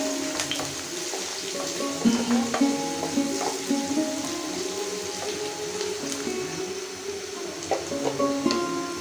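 Chopped onion and green chillies hiss and sizzle in hot oil, a dense continuous frying crackle up close with occasional clinks and stirring scrapes, no one speaking over it.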